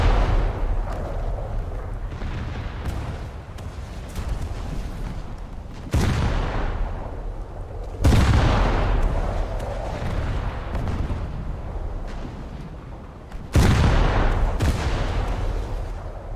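Destroyer guns fire high-explosive shells in a naval battle video game, with heavy booming blasts at irregular intervals, a few sharp loud onsets rising over a constant rumbling roar of battle.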